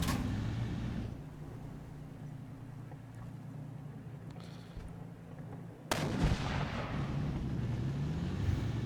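A heavy gun fires once, a sharp loud blast that breaks a steady low engine rumble, followed by a booming, rumbling tail and louder noise afterward, with no voices.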